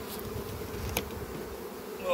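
Honey bees buzzing at a full hive during a frame inspection, a dense continuous drone holding steady and close throughout, with a brief sharper knock near the middle.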